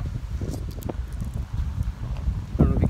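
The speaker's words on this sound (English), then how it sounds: "I want you to see how much this wind's picking up now." Gusty outdoor wind buffets the microphone with a low, rumbling roar that rises and falls, along with some faint rustling.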